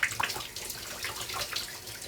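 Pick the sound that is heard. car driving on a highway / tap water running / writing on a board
tap water running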